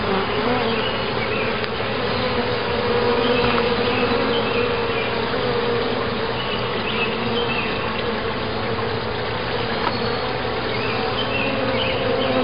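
Dense, steady buzzing of many honeybees at an open hive, a continuous close hum with no pauses and no voices.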